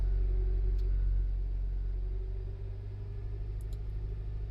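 A car engine idles and then rises slightly in revs toward about 1500-1600 RPM, a low, steady rumble heard close and fairly quiet, with no talk, during a mass airflow (MAF) sensor test.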